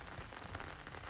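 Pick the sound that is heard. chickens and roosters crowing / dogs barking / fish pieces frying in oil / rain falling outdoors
rain falling outdoors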